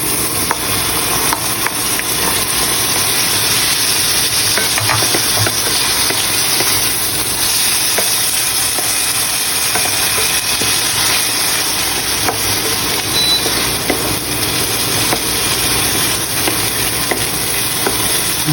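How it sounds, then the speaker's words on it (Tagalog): Sliced bitter gourd (ampalaya) sautéed with crushed tomatoes gives a loud, continuous hissing sizzle that holds evenly throughout, with faint stirring scrapes underneath. "Igisa lang natin ulit ang ating mga ingredients kasama ng ampalaya"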